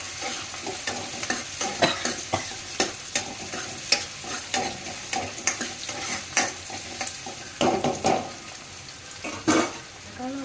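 Chicken fries in a pan while a utensil stirs and scrapes it, giving repeated irregular clacks over a continuous sizzle, close and fairly loud.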